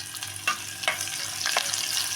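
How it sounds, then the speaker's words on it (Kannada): Onion sizzling in a pan with cashews while making palak pulao, a quiet, steady fry with a few sharp stirring scrapes over the hiss. "ನೋಡಿ, ಇವಾಗ ಈರುಳ್ಳಿ ಫ್ರೈ ಆಗಿದೆ."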